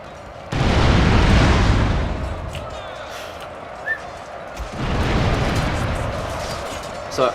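Volley fire and explosive booms from Shogun 2 Total War, in two long, loud rumbling waves separated by a quieter stretch with a brief pop in between.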